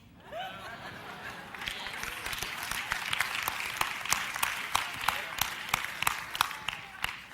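Congregation applauding during a sermon, a steady wash of clapping with sharp individual claps punctuating it and scattered laughter mixed in, building slightly louder toward the end.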